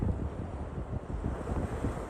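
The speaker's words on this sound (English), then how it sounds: "I'm trying to keep you behind a bag to try and keep you out the wind noise a little bit" Low, rumbling wind buffets the microphone continuously at sea while fishing, a dense muffled roar with no voices.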